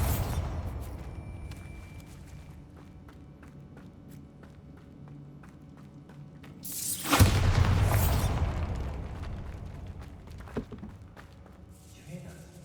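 Bombarda spell explosion in the Hogwarts Legacy video game, a single heavy boom erupting after quieter game ambience and footsteps, loud and close, then a decaying rumble.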